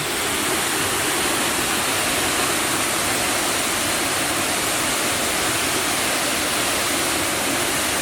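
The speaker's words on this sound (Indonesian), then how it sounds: "Air terjun Kima Atas, guys." Kima Atas waterfall near Manado pours in a dense, unbroken roar, loud and close, with a constant broadband rush and no voices.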